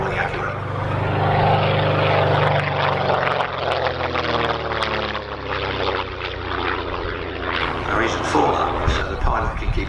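A vintage tailwheel propeller airplane lands at an airshow. Its engine drones loudly and steadily with a shifting, whirring pitch while a commentator talks over the aircraft noise.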